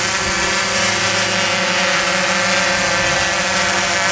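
Timberdrone 2 hexcopter drone flying outdoors on its first flight test, a loud, steady, close buzzing whine of spinning propellers holding constant throughout with no talking.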